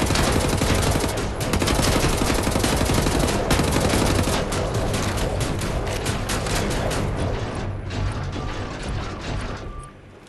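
Dense mechanical clatter and rapid gunfire from a first-person shooter firefight in Wolfenstein: The New Order, loud and continuous with sharp repeated bursts, fading slightly at the end.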